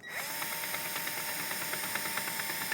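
A power drill spins steadily to raise an etrailer scissor stabilizer jack, a continuous whirring motor with faint rhythmic ticks of the screw mechanism, close and loud with no talking.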